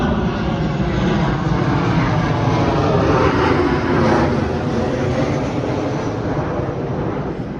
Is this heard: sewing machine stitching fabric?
no